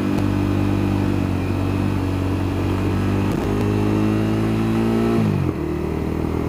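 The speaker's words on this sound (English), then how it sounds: "my exhaust is pretty loud, and I have a feeling that camera is picking up a lot of it" A motorcycle fitted with a loud exhaust revs and drones steadily, close and loud, its pitch rising and then dropping sharply near the end as the throttle closes, with no talking.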